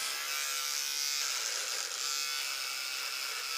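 An electric clipper trims facial hair before a shave with a continuous, close, loud buzzing drone. Its steady hum holds unbroken from start to finish, with no voices.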